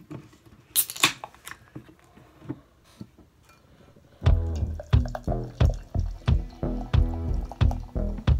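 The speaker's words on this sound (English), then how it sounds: "Let's go ahead and get it open and get it into a glass" A can of Magic Hat Barroom Hero beer is cracked open and poured into a glass. Faint handling noises come first, then a loud, close, rhythmic glugging pour that gurgles steadily to the end.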